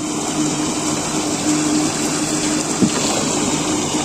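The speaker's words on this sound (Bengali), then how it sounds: "এই যে জলের আওয়াজ শুনছো, থাপাস থাপাস আওয়াজ" A double-speed aerator churns a fish pond, sending water crashing and gushing in a loud, steady, unbroken wash with one brief knock near the end.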